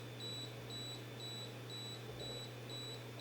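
A Canon R5C cinema camera's self-timer emits a faint, evenly spaced series of short high electronic beeps, about six in a row, over a low steady hum.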